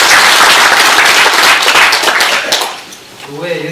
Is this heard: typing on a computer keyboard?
no